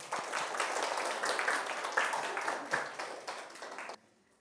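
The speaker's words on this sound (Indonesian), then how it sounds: "Kasih aplaus" A room of people applauds after a group presentation, a dense burst of steady hand clapping lasting about four seconds before cutting off abruptly.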